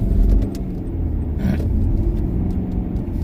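A car travels along a road at night, its engine a steady low rumble with road noise, heard close and continuous with no talking.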